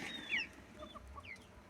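A rooster clucks softly in a farmyard flock among hens and turkeys, a few short faint calls with one brief sharper note, heard alone.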